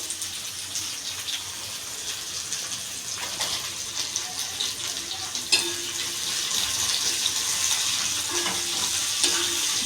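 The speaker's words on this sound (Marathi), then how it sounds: "कांदा आपण चांगला ब्राऊन होऊन द्यायचा आहे" Onions frying in a pan until brown for a dal kanda dish, a dense steady sizzle that grows a little louder midway, with a few faint clinks and stirring sounds.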